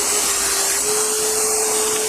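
Table saw cutting the back off the groove of a hardwood floor board, a steady loud whine with a constant motor tone running throughout, no talking.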